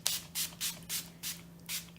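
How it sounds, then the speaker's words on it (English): Wet n Wild Photo Focus setting spray fires in six quick, evenly spaced hissing pumps close to the microphone over a faint steady hum. "A little bit of an aggressive spray there."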